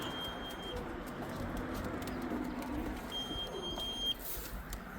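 Racing pigeons in a loft coo softly and intermittently under a steady wash of background noise, with a thin electronic beep tone sounding at times.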